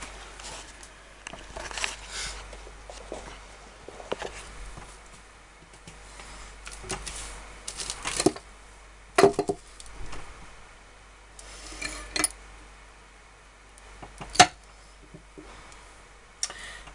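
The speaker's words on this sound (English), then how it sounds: "I'm going to cut this slab of soap and film it so you can see" A blade slices through a slab of handmade oatmeal, milk and honey soap, producing faint, close scraping and soft clicks that come in irregular strokes, with occasional sharper taps and no voices.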